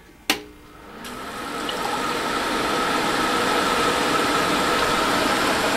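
A sharp click starts a homemade wort chiller and radiator setup, then the pump builds into a steady, even whir of circulating water that keeps going, close by and with no voices.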